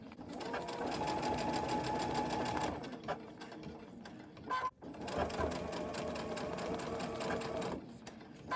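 Two long runs of a sewing machine stitching quilt pieces for a Lone Star Liberty quilt, a steady rapid close-up whir with a short pause between them and no speech over it.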